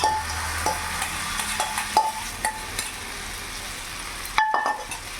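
Aloo chilla potato batter sizzles steadily in an oiled pan, with a few light clinks of a utensil against the pan and no talking.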